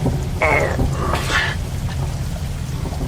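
Steady rain from the Warhammer 40K animated film, a constant dense hiss filling the whole stretch, with a brief voice-like murmur rising over it early on.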